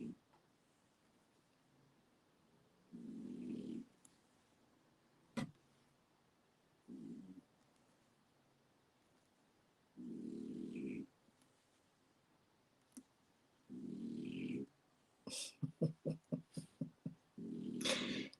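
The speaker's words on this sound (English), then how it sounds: "that snoring in the background" Someone snores softly in the background while beading work goes on, producing low, rumbling breaths at slow, fairly regular intervals, faint overall and mixed with a few scattered clicks.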